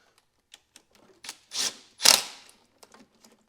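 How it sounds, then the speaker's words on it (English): Bolts are tightened on a Mercedes W124 E500: a few close ratcheting clicks and short mechanical bursts in quick succession, with the loudest zips near the middle. Nobody speaks. "I'll tighten up the bolts here."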